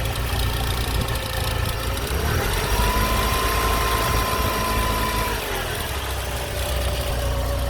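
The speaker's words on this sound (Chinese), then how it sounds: "我们冷车的状态去听看看引擎闸有没有比较好" A car engine idling just after a cold start, running on petrol stored for years and checked for knocking, a loud, steady, close mechanical drone with a faint whine running through it and no talk.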